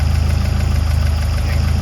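A 1979 Ford RS2000 engine idles close by, a loud, steady low throb with an even pulsing beat and no voices.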